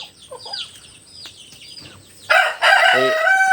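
Large tiger chicken roosters on a farm: faint bird chirps at first, then a loud, close rooster crow bursts in and carries on to the end.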